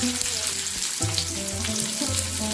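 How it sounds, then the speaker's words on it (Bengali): Chopped onion hits hot oil already seasoned with panch phoron in a kadai for a dal, producing a loud, close, steady sizzle with some tonal ringing underneath. "এবারে দিচ্ছি একটা পেঁয়াজ কুচি"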